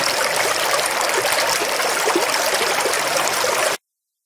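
Water from a spring runs steadily in a continuous, close trickling stream with no voices, then cuts off abruptly near the end.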